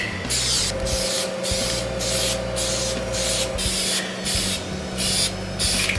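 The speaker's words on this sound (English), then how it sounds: "Want to be nice and even on the spray." A continuous spray gun hisses loudly in close range, pulsing in regular passes as paint is applied to a BMW E39 ducktail spoiler.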